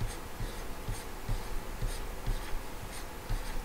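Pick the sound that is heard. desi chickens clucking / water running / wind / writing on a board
writing on a board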